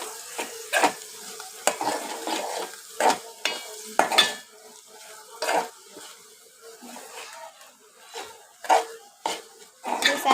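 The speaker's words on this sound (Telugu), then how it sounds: "అలా బాగా కలుపుకోవాలి" A spoon stirs egg curry in a pan with garam masala and coriander, scraping and clinking in irregular strokes over a faint, steady sizzle, close and moderately loud.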